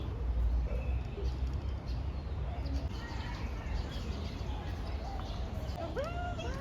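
Birds chirping faintly in the open air of a park in Yuen Long, Hong Kong, over a steady background hum, with a few short calls standing out near the end.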